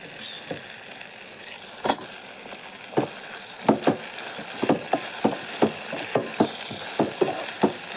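Chopped bottle gourd tumbles into a frying pan with asafoetida and is stirred, giving a low sizzle under a series of sharp, regular spatula scrapes and taps close by.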